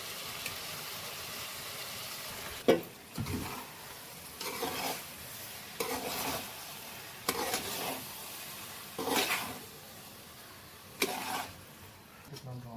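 Basmati rice hitting hot oil in a pressure cooker while making chicken pulao, giving repeated bursts of sizzling and stirring that rise and fade every second or two, with faint background sounds between them.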